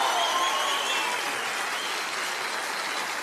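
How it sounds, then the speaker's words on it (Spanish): A TV studio audience applauds on a talk show, a dense, steady wash of clapping from many hands that holds evenly for about three seconds, close and loud, with no one speaking over it. "Un aplauso para este muchacho."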